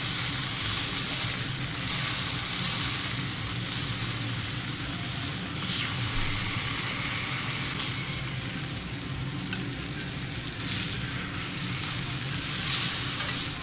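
Food searing in a hot pan with bacon grease during weeknight home cooking, a steady dense sizzle with crackles and occasional stirring, continuous and close throughout.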